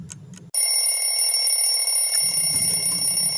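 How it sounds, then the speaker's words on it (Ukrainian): After a brief rattle, a shrill alarm clock bell rings continuously, loud and close. A low rumble joins beneath it partway through. "Будильник задзвонів."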